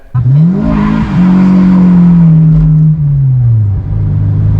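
A lowered Honda S2000 rear-wheel-drive sports car pulls away and accelerates, its loud engine note climbing through the gears, dipping briefly at a shift and then holding a strong drone close by.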